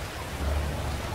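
Rain falls steadily in a GTA 5 roleplay game scene, a dense, even hiss with a low rumble swelling in the middle of the short stretch. No voices.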